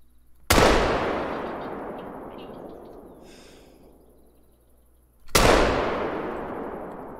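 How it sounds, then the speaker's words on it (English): Two loud, sharp rifle shots from a .470 Nitro Express aimed at a Cape Buffalo in the hunting game theHunter: Call of the Wild, each crack followed by a long rolling echo that fades over several seconds, with no talking. "Let's see if we can zero in for 160 here and take a shot"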